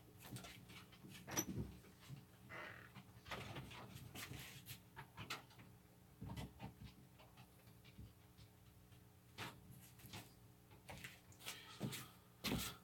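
A dachshund pants, whimpers and snuffles close by while a door opens and shuts with knocks and clatters, scattered bursts of activity over a quiet room.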